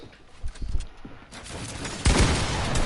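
Shotgun blasts and other gunfire in a competitive video game match come in a quick cluster of booming shots, followed by a dense, loud wash of sustained firing and explosions.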